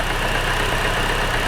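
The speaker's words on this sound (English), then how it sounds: "there's a clacking, but that's the flywheel" A car engine idles steadily and loudly, with a dense, even running noise and a faint repetitive clacking from the flywheel within the hum.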